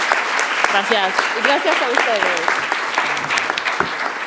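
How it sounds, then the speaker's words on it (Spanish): An audience at an embassy visit event applauds loudly and continuously, with a speaker's voice briefly heard thanking people over the clapping. "Un aplauso, por favor."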